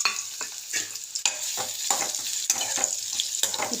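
Green chillies, onion, tamarind and garlic fry in hot oil in a kadai for berakaya pachadi, a steady close sizzle broken by repeated scraping stirs, with no talking.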